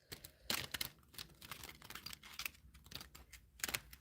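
Tarot cards are shuffled by hand in quick, irregular bursts of crisp riffling and soft flicking, faint and close, with no talk.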